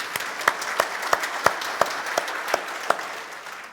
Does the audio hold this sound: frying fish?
no